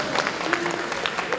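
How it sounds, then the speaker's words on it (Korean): Audience applause at a Confucian leaders' convention in Korea, a brief burst of crowd clapping with a faint voice underneath. "박수 한번 해주세요."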